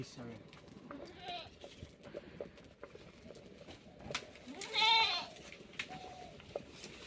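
Goats bleat a few times, one loud nearby cry standing out, while people talk quietly in the background.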